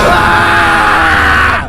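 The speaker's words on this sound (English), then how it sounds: "Then he screamed and slashed the locker." A man lets out a loud, sustained, strained scream right before slashing a school locker during a lockdown, the yell filling the moment alone and breaking off at the end.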